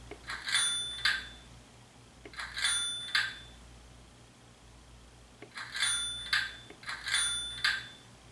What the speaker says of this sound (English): So there's the buzzer, and there's the bell.